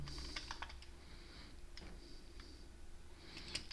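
Computer keyboard typing code for an Excel macro, a quick run of close, crisp key clicks in uneven bursts with brief pauses, quiet and alone.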